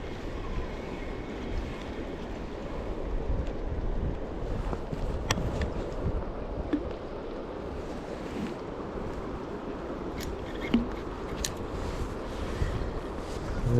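Steady downstream wind buffeting outdoors on a river during spring salmon fishing in the Scottish Borders in March, a continuous low roar with occasional faint knocks, no talking.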